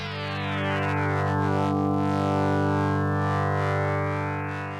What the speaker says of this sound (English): I think it could be aliasing. They're digital oscillators.